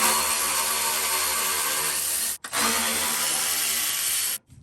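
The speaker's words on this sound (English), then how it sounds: "So you just go in through these holes here and take those bolts out." A power tool whirs steadily while removing the 13 mm skid plate bolts on a Toyota with the 3.4L 5VZ-FE V6. It gives two long, loud runs with a brief gap between them, close up and with no talking.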